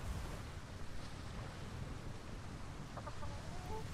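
A chicken clucks faintly in the video game Atlas, aboard a ship at sea, a few soft clucks under a constant wash of ocean waves and wind with no voices.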